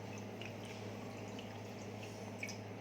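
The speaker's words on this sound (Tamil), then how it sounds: "அதை போட்டுட்டு அதுக்கு தேவையான அளவு தண்ணியை ஊற்றிக்கிடலாம்" Water is poured into a small tumbler holding sugar for bread halwa, a faint, soft trickle with light drips over a steady low hum.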